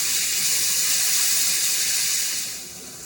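Chopped tomato hits hot oil in a pan, giving a loud, steady sizzling hiss that holds for a few seconds before easing off slightly at the end, with no talking.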